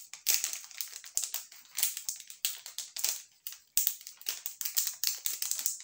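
Plastic packaging around a makeup brush crinkles and crackles in quick, irregular bursts up close, a busy rustling struggle with no voices.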